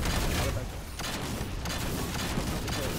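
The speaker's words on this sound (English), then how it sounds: "They have sniper on the machine gun turret." Rapid machine gun turret fire in Halo 4 capture-the-flag multiplayer on the Ragnarok map, a dense continuous stream of shots with brief dips, heard through a muddy game mix.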